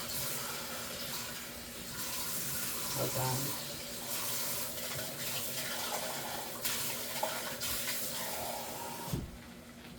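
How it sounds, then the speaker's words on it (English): Tap water runs into a cooking pot while chicken, white rice and garbanzo beans are being prepared, a steady rushing flow lasting several seconds that stops abruptly near the end, with a brief spoken remark over it. "I got half a can of water and 1 cup of water"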